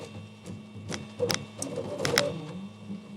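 A DIY toolchanger 3D printer runs with a steady hum and tonal motor whine, punctuated by sharp clicks and resonant knocks as its large aluminum panels amplify the mechanism, close and without speech.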